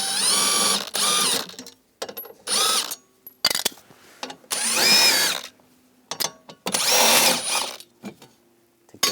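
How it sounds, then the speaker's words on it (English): A power drill with a 10mm socket backs out panel bolts at the rear of a 2010-2017 Chevrolet Equinox. Several loud, close bursts of whirring, each a second or so long, with short pauses and light clicks between them. "We're going to remove this panel, use a 10mm socket."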